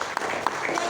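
Brief burst of audience applause during a marketing plan presentation, a short patter of clapping with a few sharper claps standing out, fairly close and loud.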